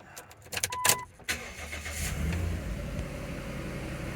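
A 2008 Dodge Ram engine cranks and fires up after key programming, with a burst of starter and ignition noise followed by a steady, moderately loud idle close by.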